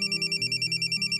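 A mobile phone plays a steady, pulsing electronic ringtone melody, loud and close, repeating in quick regular beats with no voices.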